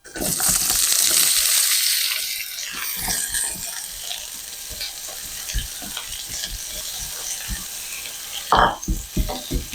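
Vegetables fry in oil in a pan with a bright hiss that is loudest at first, then settles into crackling sizzle broken by scattered clinks and scrapes of stirring.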